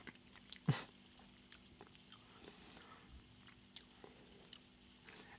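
Quiet close chewing of a homemade deer fat pemmican survival bar, with one sharp bite near the start followed by soft, crumbly mastication sounds.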